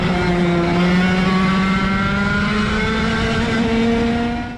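Racing karts drive on a slippery, hot track, their engines droning loud and steady with gently rising pitch throughout, no voices over them.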